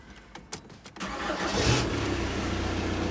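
A VW Caddy 1.9 SDi diesel engine cranks with a few uneven bursts, then catches and settles into a steady, loud idle that runs on close by.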